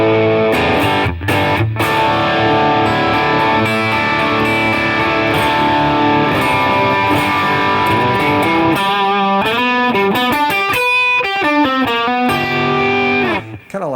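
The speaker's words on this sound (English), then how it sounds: "Kind of like a crunchy rock or blues, whatever sound." Electric guitar with crunchy distortion plays chords and riffs, loud and up front, ending in a quick choppy strummed passage.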